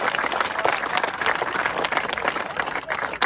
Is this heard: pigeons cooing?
no